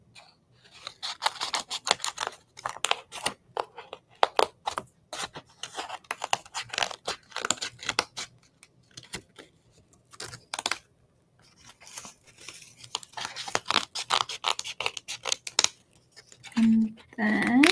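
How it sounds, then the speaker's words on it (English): Scissors snip through paper while cutting out a scrapbook page piece, with many quick crisp snips in irregular bursts, close and fairly loud, with a few rustles of paper between cuts. "I just got to figure out how I want to cut this out."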